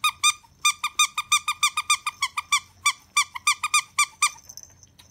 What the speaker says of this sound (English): And on the bottom, it has a little squeaker.